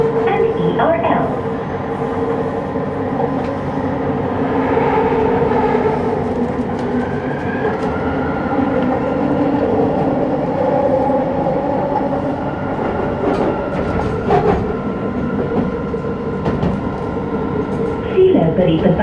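Inside a Kuala Lumpur MRT train in motion, a steady low rumble and whir carries on with faint rail clicks. Recorded station announcements sound over the ride, and brief bursts of higher mechanical noise come near the start and end.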